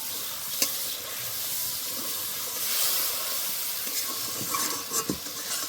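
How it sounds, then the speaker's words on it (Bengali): Spice paste for a vegetarian soybean curry sautés in a pan with a steady, hissing sizzle, close and even, broken by a few soft scrapes of a stirring spoon. "আবারও বেশ কিছুক্ষণ কষে নিতে হবে।"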